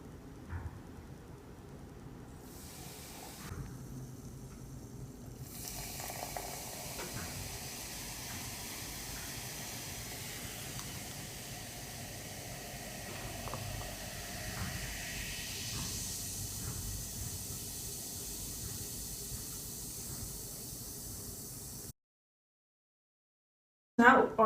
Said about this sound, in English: we've added our baking soda and our vinegar together. They've reacted and they've become a new substance